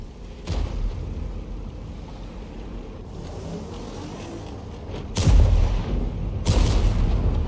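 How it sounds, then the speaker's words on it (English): Tank cannon shots in World of Tanks, a few heavy booming blasts over a low engine rumble, spaced seconds apart and fairly close. "He actually aimed and the shell went long."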